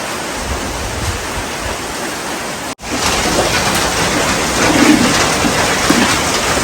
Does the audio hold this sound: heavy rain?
yes